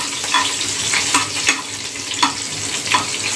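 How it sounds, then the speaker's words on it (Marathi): Green chilies and cumin frying in hot oil give a steady close sizzle with several sharp clinks of a spoon stirring the pan, no voices. "आणि लगेच थोडंसं जिरं घालूया आणि मिरची थोडी अशी फ्राय करून घेऊया।"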